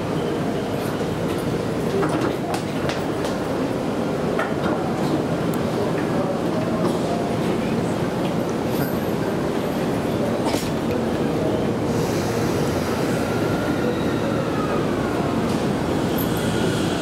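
A JR Sobu Line commuter train at Kinshicho station in Tokyo during the morning rush hour gives a loud, continuous rumble with brief wheel or brake squeals near the end, under station chatter and announcements.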